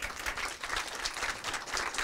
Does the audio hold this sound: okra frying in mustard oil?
no